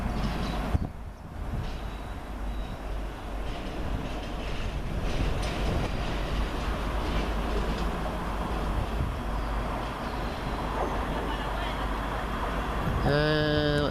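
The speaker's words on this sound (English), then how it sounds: "we've got a Class 385 coming in. So let's watch this arriving" A British Rail Class 385 electric train draws into Lockerbie station with a steady rumbling roll that swells as it nears. Voices talk over it, and a short rising tone comes near the end.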